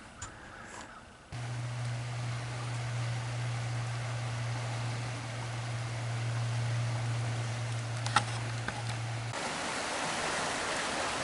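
A creek runs fast after big summer storms, a continuous broadband rush of water that holds at an even, fairly close level from start to finish, with a steady low hum beneath it and no voices.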